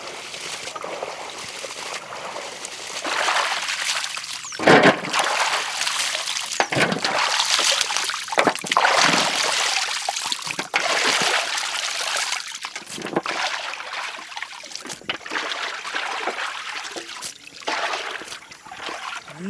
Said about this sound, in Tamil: இன்னொரு ரவுண்ட் ஊத்தான தண்ணி.